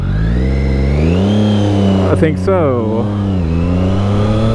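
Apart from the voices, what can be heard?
motorcycle riding in heavy traffic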